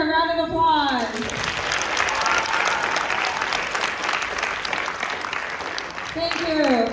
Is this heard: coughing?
no